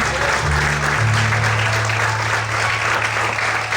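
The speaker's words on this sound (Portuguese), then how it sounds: "Você pode aplaudir o Senhor por isso." A church congregation applauds steadily throughout, a dense, loud wash of clapping with a low sustained musical tone underneath.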